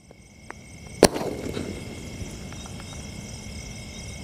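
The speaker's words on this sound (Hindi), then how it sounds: "ये चल रहा हमारा मास्क वाला स्काई शॉट" A Diwali aerial sky shot firework fires one sharp, loud bang, followed by a crackling tail that fades over a steady outdoor background of insects.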